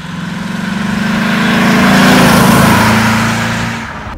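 The 6.3-litre engine of a 1969 Mercedes 300 SEL 6.3, the engine shared with the Mercedes 600, revs up in a steady, throaty swell that builds to a peak and then eases off, heard close with no talking.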